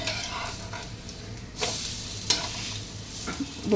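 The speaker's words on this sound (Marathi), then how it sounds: "त्याला पलटी करून घेऊया" Tomato omelette frying on a non-stick pan just after flipping, a close steady sizzle with a few sharper spatula scrapes and taps, no talking.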